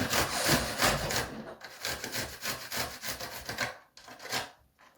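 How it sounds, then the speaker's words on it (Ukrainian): Garlic cloves rubbed against a metal grater close up, a fast run of rough scraping strokes with brief pauses between passes, no talking. "Я теж потру часник, усе його тру зараз на цю саму тертушку."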